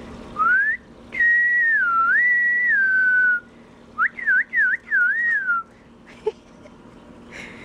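A person whistles to call a dog, a rising, warbling tune, then a quick series of short chirpy whistles, clear and close, with faint background noise.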